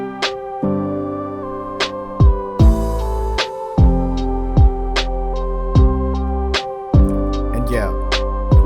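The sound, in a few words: lo-fi beat with synth lead over piano and pad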